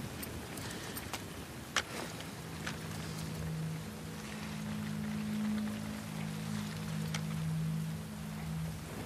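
Steady rain in The Last of Us Part II video game patters with occasional sharp drips, under a low droning hum that swells midway, fairly faint and continuous.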